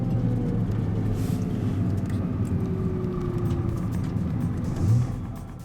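A Nissan GT-R race car engine drones steadily at a Swedish racing event, a continuous loud rumble with a slight swell near the end before easing off.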